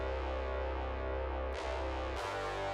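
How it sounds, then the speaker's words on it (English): A plain synth brass preset plays sustained, buzzy chord tones that change twice in a beat pattern. The sound is close and continuous, and no one talks. "And then lastly, I added just a regular brass"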